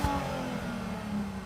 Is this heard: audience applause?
no